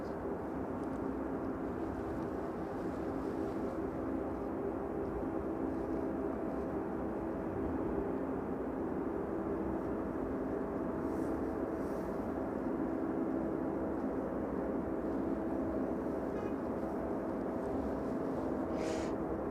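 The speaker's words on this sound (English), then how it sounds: "So that's Ryanair service just passing over Kegworth now." A Ryanair airliner passes overhead near East Midlands Airport by Kegworth, a steady low broadband engine roar that holds evenly throughout at a moderate distance, with no voices.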